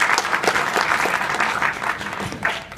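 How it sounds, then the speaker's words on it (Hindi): Applause for Anil Kumar, head of quality and safety, at a BRPL Safety Week gathering: brisk, continuous clapping from a sizeable audience, fairly close and loud for the whole stretch, with no one speaking. "जोरदार तालियां प्लीज।"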